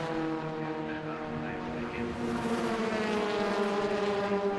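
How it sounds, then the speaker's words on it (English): Ford Fiesta racing car engines roar loudly and continuously past a pit lane at Brands Hatch, a steady high-revving drone with harmonic whine as cars pass close by. "listen to the cars go past our pit lane camera here"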